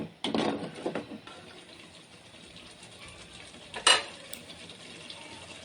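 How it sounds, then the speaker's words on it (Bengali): Biryani masala is stirred and fried in a pot with a little water: a soft, steady sizzle under occasional scraping strokes and a sharper clank of the spoon against the pot. "অল্প পানি দিয়ে ভালো মতো কষিয়ে নিতে হবে যতক্ষণ পর্যন্ত তেলটা উপরে উঠে না আসে"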